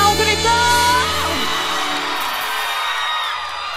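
A concert crowd shouts and cheers loudly at a live show, the roar carrying on steadily and fading slightly, with musical tones under it at first.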